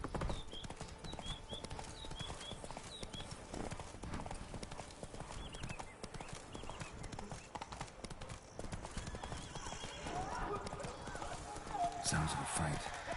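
Roach the horse galloping in The Witcher 3: Blood and Wine, heard as a steady run of clip-clop hoofbeats with an occasional whinny, set in dense game ambience and music.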